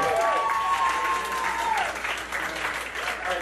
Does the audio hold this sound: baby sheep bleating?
no